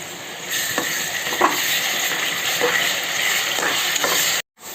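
Ginger, garlic and onion paste sautés in a hot pan for mutton biryani, giving a steady close sizzle broken by repeated stirring scrapes before a sudden brief cutoff near the end.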